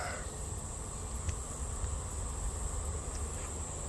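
Honeybees flying in circles at a hive entrance, a continuous, fairly quiet droning buzz of many wings with a steady hum running underneath and no talking.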